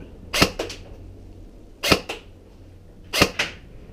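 An airsoft gun fires BBs through a chronograph, three sharp spring-powered cracks spaced over a second apart, each with a quick echoing double tap, close and loud against quiet room noise.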